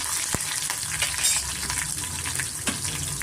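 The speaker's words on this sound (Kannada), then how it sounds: "ಈರುಳ್ಳಿ ತರಕಾರಿಗಳೆಲ್ಲ ಸ್ವಲ್ಪ ಎಣ್ಣೆನಲ್ಲಿ ಚೆನ್ನಾಗಿ ಫ್ರೈ ಮಾಡ್ಕೊತಾ ಇದ್ದೀನಿ" Onions, beans, carrot and ginger fry in a little oil for a red poha breakfast dish, giving a steady close sizzle with occasional clinks and scrapes of stirring, and no talk.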